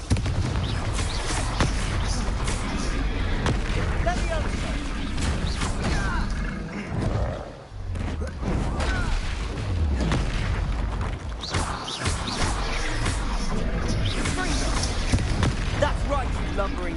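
Confringo fire-blast spells in the video game Hogwarts Legacy, loud booming explosions and crashing impacts layered with battle noise over nearly continuous voices, one brief dip in the middle before the blasts resume.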